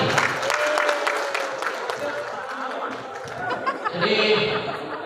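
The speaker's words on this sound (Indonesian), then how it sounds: "kita berikan aplaus kepada Ibu Haja Asnari" A crowd applauds for Ibu Haja Asnari at a Bundo Kanduang community gathering in Bengkulu, a steady wash of clapping lasting several seconds with voices talking over it.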